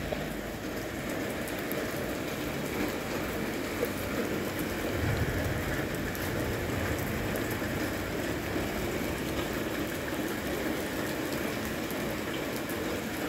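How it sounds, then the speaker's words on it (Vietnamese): Heavy rain pours steadily and densely, making a constant broadband hiss and patter with no pauses; no voices are heard over it. "Mưa lớn quá"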